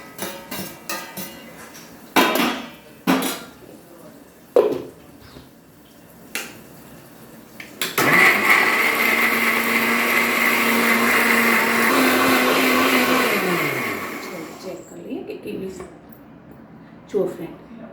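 A kitchen mixer grinder blends cashews and garlic into a smooth gravy, running loud and steady for several seconds before winding down, framed by clinks and knocks of the jar and utensils, with a voice speaking at times.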